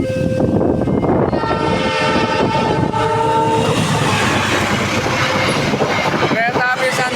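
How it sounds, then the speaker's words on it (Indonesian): A train rolls past railway level crossing JPL 92A at Sukomoro, its horn sounding in long steady tones early on and again midway over a continuous, loud rumble of wheels and carriages. "Kereta api apa yang melintas di JPL 92A teman-teman?"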